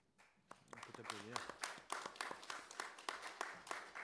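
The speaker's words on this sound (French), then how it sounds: "On peut t'applaudir." A conference audience applauds a speaker, giving a burst of sharp, scattered claps that build into a steady round of applause, with some voices mixed in.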